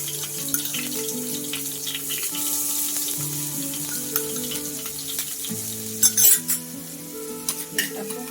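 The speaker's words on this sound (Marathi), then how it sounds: "थोडीशी मोहरी, आणि मिरची बारीक केलेली" Mustard seeds and finely chopped chili sizzle and fry steadily in a pan while aloo paratha filling is made, with light stirring and a few utensil clinks rising near the end; a low musical background runs throughout.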